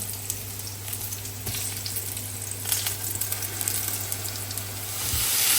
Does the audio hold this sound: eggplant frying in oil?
yes